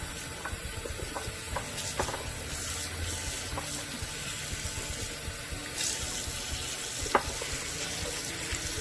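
Running water splashes and hisses steadily as a horse grooming tool is rinsed and soaped under a tap, with occasional small clicks and knocks of the tool against the sink.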